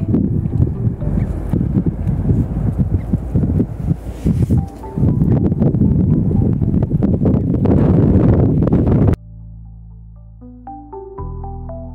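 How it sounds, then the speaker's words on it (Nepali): Loud gusty wind at the foot of the Himalayas roars and rattles against the microphone for several seconds, then cuts off abruptly and a short electronic tone sequence plays. "यहाँ एकदम हावाले छेटिरहेको छ"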